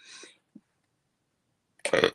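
A single burp at close range, brief and fairly loud, comes at the very end, after a short pause in which a few soft vocal sounds are heard.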